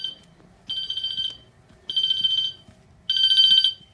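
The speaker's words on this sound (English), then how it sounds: "And you can hear the bell now ticking." A fire alarm bell sounds in loud, bright rings during a system test, three separate bursts each lasting about half a second to a second, with short quiet gaps between them and faint low background noise.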